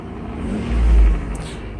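A 1993 Mercedes 600SL accelerating, a low engine rumble that swells briefly to a peak and then eases off, close and without any talk.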